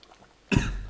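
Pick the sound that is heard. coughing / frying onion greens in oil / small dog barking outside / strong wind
coughing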